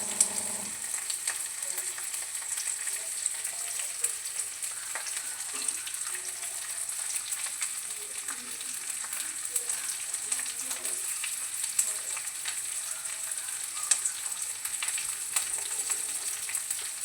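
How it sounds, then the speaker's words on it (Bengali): Food frying in a pan until reddish, a bright continuous sizzle of hot oil with faint crackles and occasional soft stirring, steady and close throughout. "ওটা দিয়ে একটু ভাজা ভাজা করব।"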